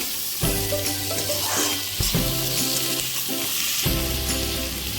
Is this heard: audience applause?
no